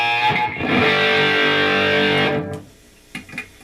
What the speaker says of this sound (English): that thing sounds more like reverb.